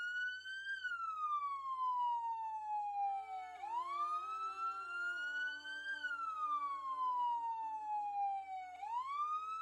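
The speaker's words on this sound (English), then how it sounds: "Sorry for the siren noises" A wailing emergency siren sweeping slowly up and down in pitch, steady and continuous, with no talk over it.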